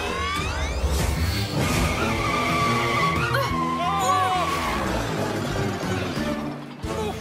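A cartoon racing turbo-tire vehicle roars past in a loud, continuous burst of whining engine, ratcheting mechanical clatter and skidding squeals, with dense soundtrack layered under it.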